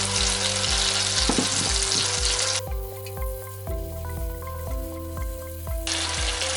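Butter and oil sizzle steadily in a pan while a soup is cooked, a close, continuous frying hiss with a droning background hum that carries on throughout.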